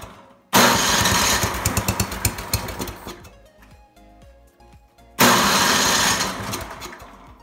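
A Craftsman snowblower's small engine with a newly installed carburetor bursts into a loud, sputtering run, cuts out for a couple of seconds, then roars back to life close by.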